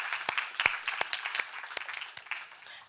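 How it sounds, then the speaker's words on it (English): An audience gives a brief round of applause at a conference session in London, a scattering of sharp individual claps close by that thins out and fades toward the end. "a quick clap of hands"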